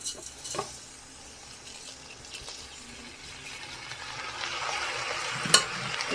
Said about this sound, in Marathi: तर हे तांदूळ आता आपण या तुपामध्ये भाजून घेऊया.